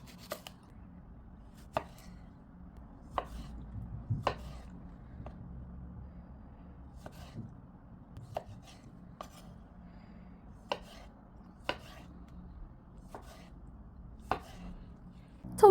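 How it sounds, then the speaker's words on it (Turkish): A knife chops tomatoes and peppers on a cutting board in sparse, evenly spaced taps, close and fairly quiet, with a low room hum underneath and no talking. "Domates ve biberleri de şişe geçireceğiz. Onları da e, tavuk etlerinin boyutunda doğrayalım."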